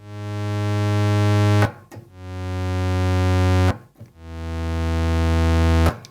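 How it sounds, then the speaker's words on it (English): Roland System 100 analog synthesizer notes with a slow attack, three sustained tones each swelling gradually in loudness over about two seconds before cutting off, no talking. "If we want a slower attack, we add more time and we get this effect."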